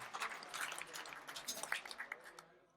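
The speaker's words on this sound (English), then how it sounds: "give Mahesh another big round of applause" An audience claps for a performer at an evening jazz salon. The applause is moderate and fairly faint, a patter of scattered claps that thins out and fades near the end, with no voices over it.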